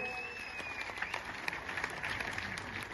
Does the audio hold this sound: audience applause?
yes